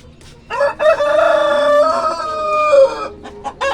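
A caged hen on a Brahma chicken farm lets out a loud, drawn-out clucking call lasting a few seconds, close to the microphone, followed by a couple of short softer clucks.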